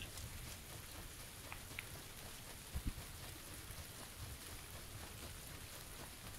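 Steady rain hisses in the PUBG video game, a dense, even wash of falling drops with a couple of soft thumps partway through and no voices.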